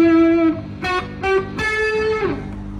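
Sustained electric guitar notes on the rear pickup ring out alone, a few plucked tones and short bends, clear and fairly loud with a bright, slightly gritty edge.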